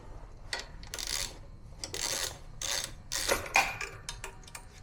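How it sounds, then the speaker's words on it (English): A ratchet with a 12mm socket loosens the bolt on a carburetor bracket of a 1968 Corvette, giving close bursts of rapid clicking with brief pauses between strokes. "We're going to be using a 12mm socket to break this loose."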